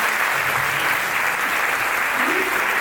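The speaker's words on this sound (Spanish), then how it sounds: "Un aplauso para Marcela." Audience applause at an annual gala of a Galician cultural group: steady, dense clapping from a crowd, continuous and fairly loud throughout, with no voices standing out.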